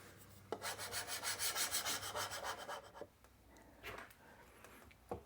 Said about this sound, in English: Putty knife.